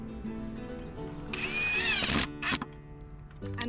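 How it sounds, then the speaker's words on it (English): A power drill driving a screw into wood whirs up in a rising whine for about a second, then stops, with a short second burst after it, close up. "Put it on the end of your drill and screw it in place."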